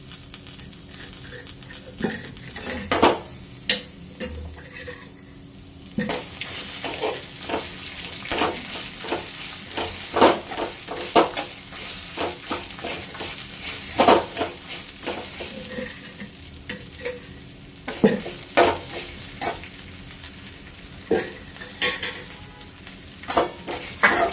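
Oil fries steadily in a pan for a ridge gourd pickle while a spoon stirs and scrapes in an irregular rhythm, with sharp knocks against the pan. The sizzle is close, continuous and fairly loud.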